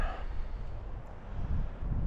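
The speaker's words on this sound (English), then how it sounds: "It's definitely getting windy" Steady wind buffeting outdoors on a chilly snowy mountain evening, a low rumbling roar that gusts slightly stronger toward the end, with no voices.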